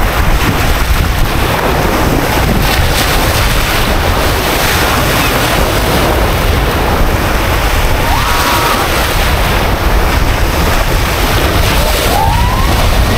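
Sea waves break and wash continuously on a beach, loud and close, with heavy wind buffeting the microphone throughout and no talk.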